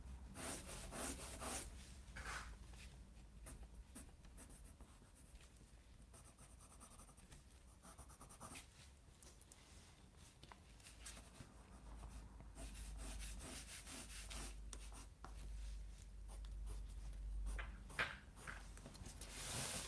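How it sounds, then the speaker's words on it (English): Blue pastel stick rubbing across paper in quick sketching strokes, a steady scratchy texture with brief pauses, close and fairly quiet. "I want to show you another way to use the pastel for quick sketching"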